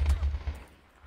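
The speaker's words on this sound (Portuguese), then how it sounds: "o cara deu tiro no cara e acertou em mim" Video game gunfire plays as a burst of low, punchy shots packed into the first half second, followed by a quieter tail with some faint background noise.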